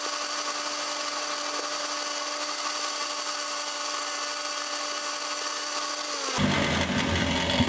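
A wire brush on a power tool cleans paper off bamboo, giving a steady, loud, high whir that runs unbroken before shifting to a rougher, grinding tone near the end.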